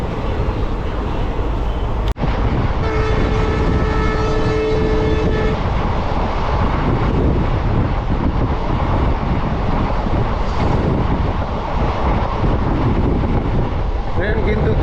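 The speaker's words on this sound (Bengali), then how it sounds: "ট্রেন কিন্তু দুরন্ত গতিতে চলছে।" A fast-moving train on the Haldibari–Bamunhat line, passing hills, rivers, forest and tea gardens, gives a steady, loud rumble of wheels and carriage throughout, with a brief whistle-like tone near the start.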